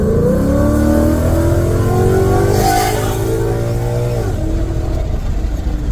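Car with 80,000 miles accelerating hard onto a highway on-ramp, heard from inside: a loud engine climbs steadily in pitch through the gear, dips at a shift, then pulls again, with no talking.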